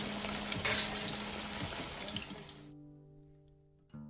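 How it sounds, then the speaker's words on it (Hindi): Raw potato pieces frying in mustard oil in a home kitchen, giving a steady loud sizzle with stirring scrapes. The sizzle cuts off sharply partway through, leaving quiet hum before a brief clatter. "कच्चे ही आलू मैं सरसों के तेल में फ्राई करूँगी।"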